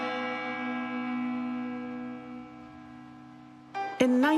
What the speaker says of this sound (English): that church bell would ring every day, that there's a certain bell for a notice for the death